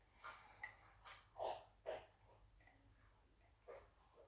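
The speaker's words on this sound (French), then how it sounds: "j'ai mon chien qui a faim et qui est en train de manger" A dog crunches dry kibble nearby in a few quiet, scattered bites, with pauses between.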